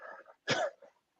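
A person coughs once in a short, loud burst, with faint murmuring before and after.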